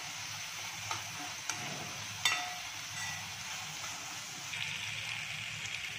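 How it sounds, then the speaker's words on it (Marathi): Ground green masala sautés in a pan for a wild shevla vegetable dish, giving a steady close sizzle and hiss with a few sharp spatula clicks and scrapes as it is stirred. "आता घालायचे वाटलेला हिरवा मसाला, चांगला 1-2 मिनिटं परतून घ्यायचा मसाला"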